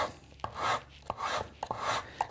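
Hand sanding the inside of a wooden workpiece with 100 grit sandpaper, quiet rhythmic rasping strokes, each marked by a light tap, about four passes with no talking.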